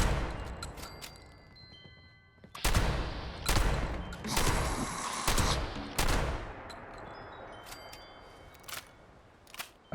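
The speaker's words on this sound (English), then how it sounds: "I'll try this shotgun and save some condition on my hunting rifle" Shotgun blasts in the video game Fallout 76, several loud, close booming shots spaced about a second apart, each trailing into a rattling decay, with softer clicks and a faint background hum between them.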